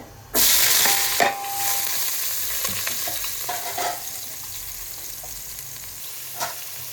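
Sliced onions sizzle and fry in a ladle of hot oil with cinnamon and cloves, with a loud burst as they hit the pan and occasional stirring scrapes over the steady crackle.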